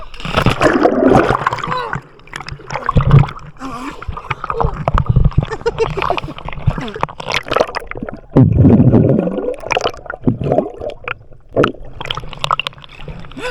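A person jumps into the water at Maharlika Beach Resort, setting off loud splashes and gurgling sloshes at close range, mixed with excited talking and gasps before and after.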